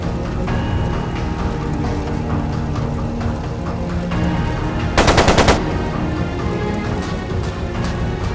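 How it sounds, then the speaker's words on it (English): Machine gun fire in The Legend of Heroes: Trails of Cold Steel II, a short sharp burst of rapid rounds cutting through a dense, loud bed of game music and ambience. "It sounded like a machine gun."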